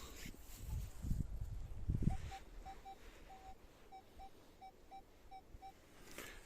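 A Nokta Triple Score 3 metal detector sounds a series of short, clear, evenly spaced beeps over a buried find, following a few low thuds of handling, with faint background noise throughout.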